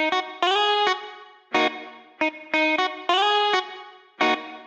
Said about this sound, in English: And now we'd also like to put on a reverb and a little bit of delay.